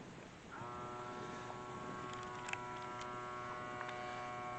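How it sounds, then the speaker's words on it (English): A vacuum sealer draws air from a bag of corn kernels: a steady motor hum and whine starts after a brief pause and runs evenly throughout, close and fairly quiet, with a few faint clicks. "Close it till it clicks. Hit vacuum seal."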